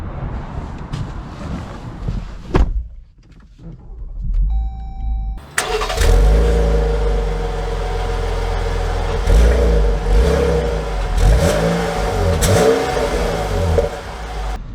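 A 2023 Jeep Grand Cherokee L Altitude starting up after a few quiet clicks, then its engine settles into a steady idle and revs as it pulls away, loud and close inside the cabin.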